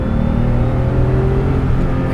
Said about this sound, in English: Yeah, it moves when you get up in the revs.